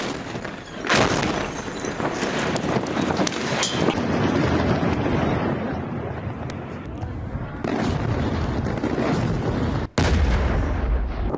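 Bombing of a town in Lebanon heard in news footage as sustained heavy booming and rumbling blasts, loud and continuous with a brief cut near the end and no clear talk over it.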